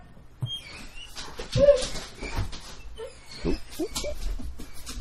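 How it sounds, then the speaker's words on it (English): Dogs kept at home let out a few short, scattered barks and whimpers, moderately close but fairly quiet, with rustling movement between them and no voices. "my dogs are going to lose their shit in a second"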